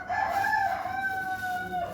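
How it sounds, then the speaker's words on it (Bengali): A rooster crows once, a long drawn-out call with clear harmonic bands that holds for nearly two seconds. It sounds close and loud over quiet farmyard background, with no talking. "শুধু মুরগি ডাকে"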